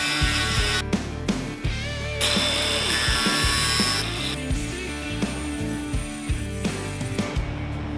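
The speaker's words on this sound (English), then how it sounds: "I wanted to kind of hand carve these with the grinder and the sanding disc." An angle grinder fitted with a sanding disc hand carving a wood slab, whining steadily at close range while rasping and grinding against the wood, with its pitch shifting under changing load.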